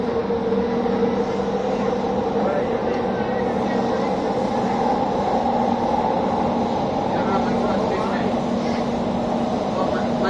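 A Doha metro train runs through an underground tunnel toward Al Mansura, a steady, loud rumble and whine heard from inside the car with a continuous hum throughout, and an announcement-like voice partly over it.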